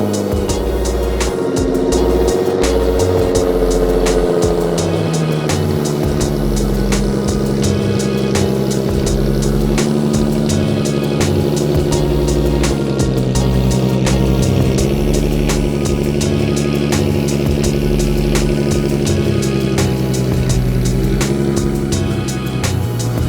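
A car's engine runs steadily and close, droning and shifting in pitch for over twenty seconds, with deep low rumble and no talking.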